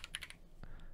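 Quick keystrokes on a computer keyboard as a folder name is typed: a brisk burst of four or five clicks, a short pause, then one or two more taps, close and fairly quiet with no talking.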